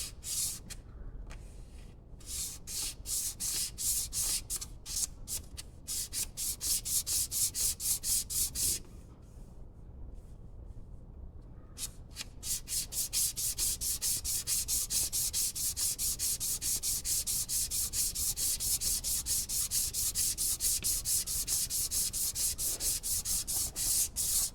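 Repeated hand sanding with sandpaper: rhythmic back-and-forth rasping strokes, close and steady, with a short pause midway before faster, evenly spaced strokes resume to the end.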